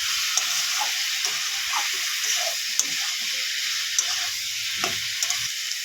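Spice paste frying in oil in a pan for a Bengali rui fish curry, a continuous close hiss and sizzle with occasional stirring clicks and bubbling spits.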